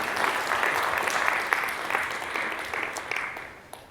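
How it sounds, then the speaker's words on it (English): An audience at a talk applauds steadily, a dense, close wash of many hands clapping that holds for several seconds and fades slightly toward the end. "It's okay, you can clap."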